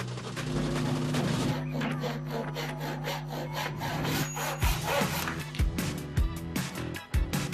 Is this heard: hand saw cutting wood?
yes